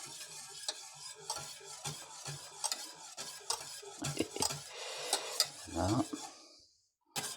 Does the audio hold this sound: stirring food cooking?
yes